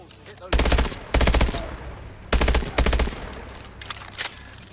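Call of Duty: Advanced Warfare weapons fire through walls in several loud, close bursts of rapid automatic gunfire separated by short gaps, with quieter game ambience between them.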